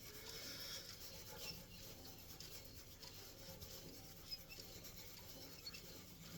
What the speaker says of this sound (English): I'm just going to use my hand, just kind of burnish it in